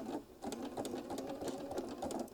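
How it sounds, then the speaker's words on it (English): A sewing machine stitches a few stitches forward and back through a thick jean jumper, its steady mechanical whir running continuously up close with slight rhythmic pulses. "Now I'm going to sew a couple stitches forward, a couple stitches back, get the right stitch length."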